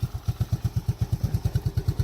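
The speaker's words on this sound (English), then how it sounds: "Oh, it's actually idling better than it has since I brought it here." A Honda Fourtrax ATV engine idles close by, a steady low chugging pulse of evenly spaced thumps with no voices.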